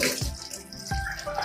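Quail meat rinsed under running tap water, a steady close splashing rush with two louder surges as the flow hits the meat.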